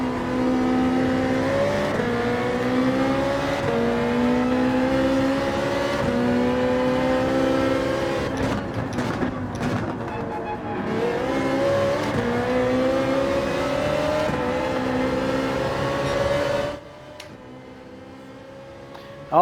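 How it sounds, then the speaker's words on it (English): A Ferrari race car in Gran Turismo 7 screams at high revs through long sustained pulls, its pitch rising and dipping with gear changes and braking, loud and continuous before cutting away near the end. "I'm loving the Ferrari on this track."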